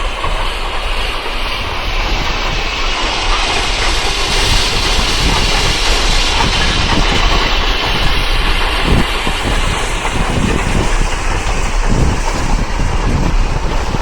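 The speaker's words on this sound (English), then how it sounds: "the train here in Durango is going past" A loud, close train rumbling past in Durango with steady roaring noise, hissing and rhythmic clickety-clack of wheels on the rails throughout.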